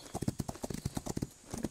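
Rapid, rhythmic hoofbeats of a grey horse cantering in Rival Stars, loud and close, with steady thuds over a quiet musical background.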